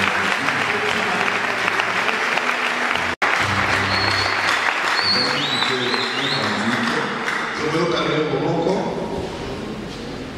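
A church congregation in Congo applauds loudly and steadily in a dense wash of clapping, with a brief cut partway through, and voices and cheering blend into the crowd before it tapers slightly at the end.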